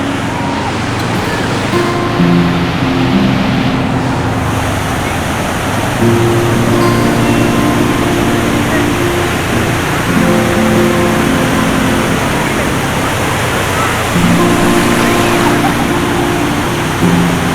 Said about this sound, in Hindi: लहरों की जो आवाज़ है, कल कल की आवाज़,